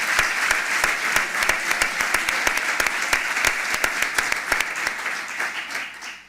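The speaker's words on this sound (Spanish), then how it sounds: "yo creo que un aplauso merecen los compañeros." Sustained audience applause at a union collective-bargaining conference, dense steady clapping for about six seconds with a few sharper individual claps standing out, fading slightly at the end.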